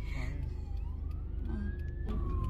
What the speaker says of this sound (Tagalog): May fire truck.